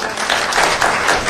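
Applause from the crowd at a special board of supervisors hearing, a broad, steady patter of many hands clapping that continues through the whole short stretch, with no voices.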